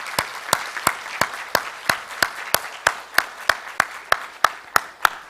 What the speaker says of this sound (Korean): 감사와 우리 영광의 박수 우리 하나님께 올려드리겠습니다